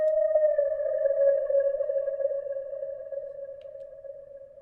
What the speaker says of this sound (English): all I did was add a delay, which sounds like this now.